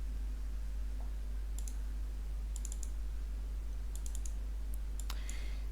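Short, crisp computer mouse clicks come in small bursts, two or three at a time, against a quiet room with a low steady hum. The clicks are close and fairly faint, and no one talks.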